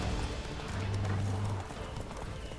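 Horse hooves clip-clop at a steady pace in The Witcher 3, with a whinny partway through and no voices heard.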